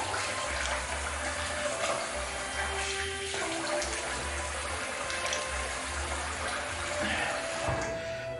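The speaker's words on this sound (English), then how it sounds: "I'll quickly rinse that alum off." Tap water running into a sink while someone rinses alum off the face after a wet shave, a steady close splashing flow with a few brief interruptions from hands and water.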